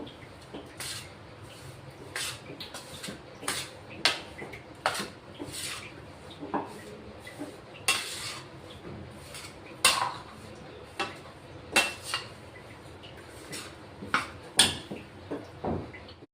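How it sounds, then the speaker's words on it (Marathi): A spoon clinks and scrapes against a bowl in a steady series of sharp taps while cardamom powder is stirred into a sweet laddu mixture, close and fairly quiet. "2 चमचे वेलची पूड घेतलंय, ते आता आपण मिक्स करून घेऊ"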